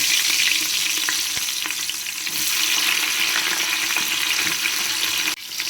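Onion and garlic, with cumin already added, fry in hot oil for a Tamil paruppu sadam, giving a steady, loud, broadband sizzle with a few faint stirring clicks throughout and a short dip near the end.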